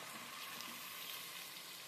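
Marinated chicken sizzling loudly as it hits a pan of frying onion, ginger and garlic paste for Dak Bungalow chicken, a steady close crackle and hiss throughout with no talk.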